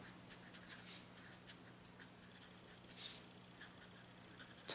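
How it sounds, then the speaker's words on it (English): A calculus product-rule formula is written out by hand, heard as a quiet, close series of short scratchy strokes with small pauses between them. "So let me write that out."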